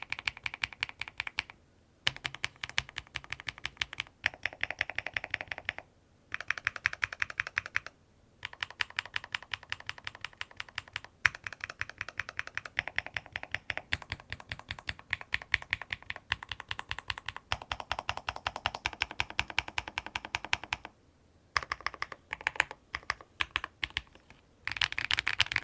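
Fast, crisp keystrokes clatter on an AJAZZ AKS075 mechanical keyboard, close and continuous in bursts of rapid typing broken by a few brief pauses.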